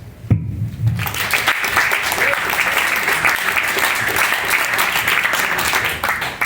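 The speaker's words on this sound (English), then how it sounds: "So again, a big applause." Dense, loud audience applause at a company holiday gathering, beginning after a short sound and then holding steady as continuous clapping from many hands.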